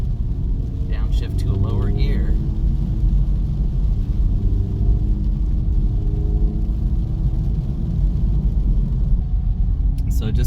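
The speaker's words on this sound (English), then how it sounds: "Downshift to a lower gear." An Acura Integra Type S on a wet track, the engine a steady low rumble under road and tyre noise with brief quieter moments; a voice comes in faintly early on.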